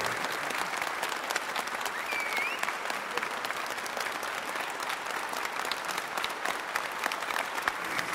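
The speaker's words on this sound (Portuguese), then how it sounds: "Uma salva de palmas," A room full of guests claps steadily for a couple celebrating their golden wedding anniversary, with even, dense applause holding from start to finish and no speech on top.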